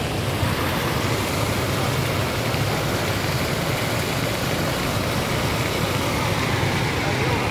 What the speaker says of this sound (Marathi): बंदईला पूर आलेला आहे